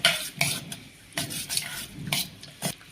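Paneer roll filling with coriander, cumin, red chilli powder and salt being mixed in a pan: repeated quick scraping strokes and light metal clinks over a soft sizzle, close up, no voices.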